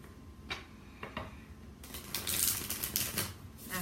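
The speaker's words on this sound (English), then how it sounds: "Shuffling right now for you." A deck of tarot cards is shuffled nearby, a few soft riffling flicks at first, then a louder, busier run of rapid card rustling, with no voices.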